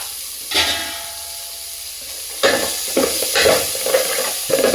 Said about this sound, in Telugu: నెక్స్ట్ మనం బీట్రూట్ కూడా వేసుకున్నాం. కొంచెం ఇవి వేగితే సరిపోతుంది, ఫ్రై అవుతే ఎక్కువ అవసరం లేదు.